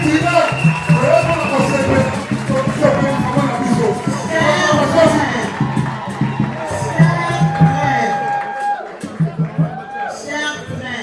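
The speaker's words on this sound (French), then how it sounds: "Applaudissons pour notre frère." A large crowd claps and cheers at a church enthronement ceremony honouring a Congolese singer, dense steady applause and chatter filling the whole stretch with musical tones mixed in.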